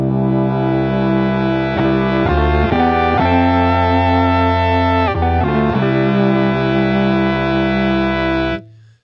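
An electric guitar runs through a C4 synth pedal on a C seventh chords preset, giving loud sustained synthesized chords with harmonized tones, changing several times before cutting off near the end. No talking.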